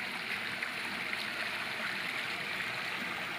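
Constant broadband rush of a mountain river pouring over rocks, a dense hiss and gurgle heard close and steady throughout.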